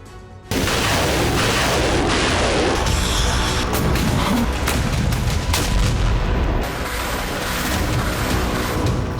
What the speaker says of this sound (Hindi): सूमी में मिसाइल ड्रोन से धमाके हो रहे हैं